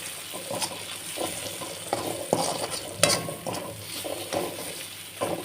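Potato gravy masala being stirred and fried in a pan, a steady sizzle broken by repeated scraping strokes of the spoon at an uneven rhythm, close and fairly quiet.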